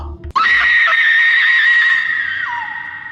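A sudden, piercing scream of fear bursts out after a short thump and holds at high pitch for about two seconds before dropping and trailing off.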